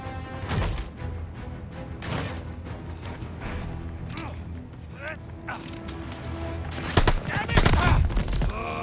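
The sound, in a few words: rifle gunfire in Call of Duty: Vanguard video game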